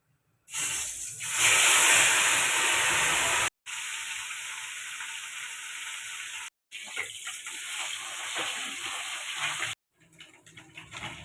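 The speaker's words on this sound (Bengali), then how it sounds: "কড়া বসিয়ে দিয়েছি আমি সর্ষার তেল দিয়ে দিচ্ছি" Mustard oil hits a hot wok for a ridged gourd, potato and small fish dish, setting off a loud, continuous hiss broken by a few abrupt cuts, then settling into a softer crackle.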